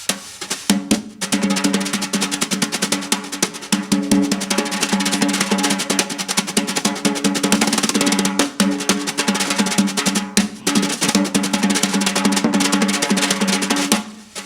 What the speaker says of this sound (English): Now, Bunny Briggs, he would do this rapid fire tap